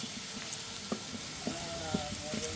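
Saag greens being tempered in hot oil give a soft, steady sizzle close by, with a few faint clinks and stirring knocks over the top.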